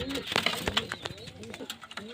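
Pigeons held for sale coo in a short burst of soft, low throaty calls, close by, with a voice talking over them.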